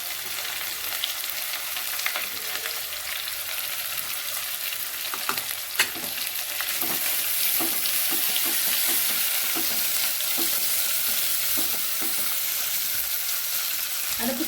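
Onions sautéing in a pan with rock salt for vegetable biryani: a steady, fairly quiet sizzle with scattered crackles and stirring clicks, no talking.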